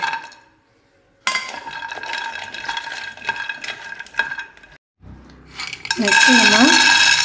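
Cashews dry-roasting in a pan for a protein health mix, stirred with scraping and light clinking against the metal, close and fairly loud, with a brief pause before the stirring resumes more intensely.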